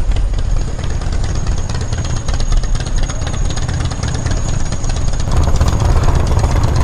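A 232 Honda Ruckus scooter fitted with a Reveno clutch rumbles steadily at close range, its engine noise loud and continuous throughout, then it shifts slightly in tone near the end, with no voices.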